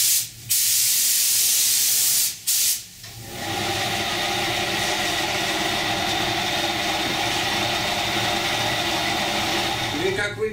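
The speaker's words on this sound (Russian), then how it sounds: "Как видите, пистолет распыляет хорошо." A paint spray gun atomizing paint over a car panel during blend-in refinishing gives a loud, steady hiss, with short bursts at the start and then one long continuous spray pass.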